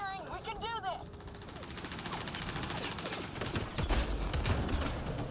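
Sustained gunfire in a shooter video game, with an unbroken, dense rattle of rapid shots, loud and close, and heavier bursts toward the end.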